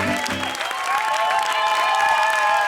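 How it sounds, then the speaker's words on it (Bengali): Steady applause with crowd cheering fills the stretch after a contestant, the popular employee Mr. Lullu, is called up in a ghost cartoon, holding at an even, continuous level throughout. "লুল্লুর জন্য একটা জোরে হাততালি হোক"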